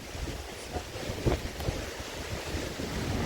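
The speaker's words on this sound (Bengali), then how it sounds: "প্রচণ্ড বৃষ্টি আর ঝোড়ো হাওয়া হচ্ছে" Strong wind from Cyclone Remal's aftermath roars and buffets the microphone in a continuous gusty rush, with a deep rumble underneath like surf.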